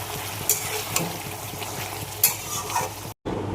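Chicken browning with spices in a pan, stirred with a utensil: steady frying sizzle broken by scraping clicks and knocks, close and moderately loud, then a brief cut before sizzling resumes.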